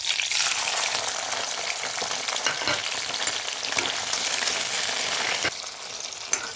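Eri silkworm pupae frying in hot mustard oil, giving a steady, loud, continuous sizzle with crackling bursts throughout, close up and without talk.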